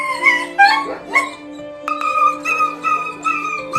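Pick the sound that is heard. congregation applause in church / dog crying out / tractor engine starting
dog crying out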